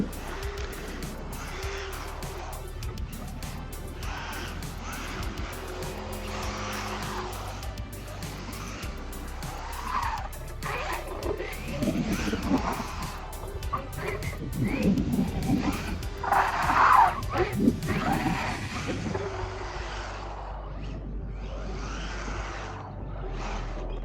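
An MJX Hyper Go 14301 RC car on 2S power with road tires drives about, giving a continuous buzzing motor whine that rises and falls in short surges, with brief whooshing passes and gritty surface noise.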